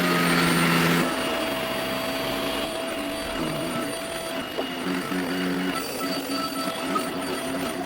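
A FEPPO mattress vacuum cleaner runs with a steady, loud motor drone and whine, a brief higher start-up tone giving way to a continuous hum with slight fluctuations as it moves over upholstery.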